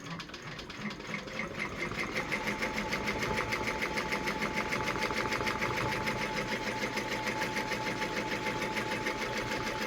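A Brother PR1055X embroidery machine stitches steadily, a fast even mechanical chatter with a faint hum, close and continuous throughout.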